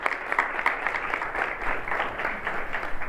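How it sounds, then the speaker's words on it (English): Applause from an audience at a university business lecture greets a speaker, steady moderate clapping with scattered sharper claps throughout, no voices over it. "Let's get a big round of applause."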